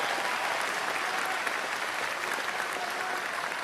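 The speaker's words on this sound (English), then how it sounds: "Give them a round of applause." Dense, continuous applause from a rally crowd honouring trades workers in Woolwich, Ontario, a steady wash of many hands clapping at once, loud and sustained without a break.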